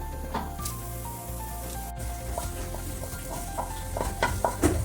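Seasoning oil and masala are stirred into kimchi noodles frying in a pan, a steady sizzle with soft scraping and stirring sounds that grow busier toward the end, close and without talk.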